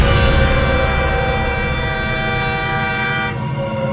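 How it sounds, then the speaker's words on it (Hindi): A loud, sustained train horn blares steadily for several seconds over low rumbling, with the tone slightly shifting near the end. "एक ट्रेन की हॉर्न की आवाज़ हवा में गूंज उठी"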